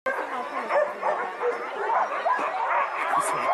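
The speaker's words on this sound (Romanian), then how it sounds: "câinii husky au așteptat doar un semnal pentru a porni în cursă" Husky sled dogs bark, yip and whine in an excited, continuous chorus at the start line of a dog sled race, close and loud, with a voice faintly mixed in.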